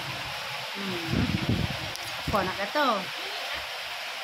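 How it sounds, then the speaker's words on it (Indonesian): Heavy rain falls in a steady broadband hiss throughout, with people talking over it partway through. "Hujan lebat."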